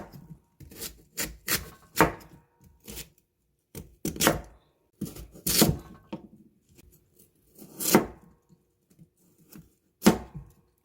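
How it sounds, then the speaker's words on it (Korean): Knife chopping radish into large chunks on a cutting board: a series of sharp, irregular thuds, close and clear, with no voices. "물을 이렇게 약간 큼지막하게 썰어줍니다."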